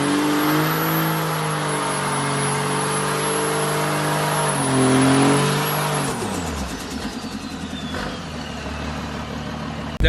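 A modified diesel pickup truck tuned to about 600 horsepower with an upgraded turbo revs loudly and steadily, holding a high drone before the pitch drops and falls away, close by with no talk.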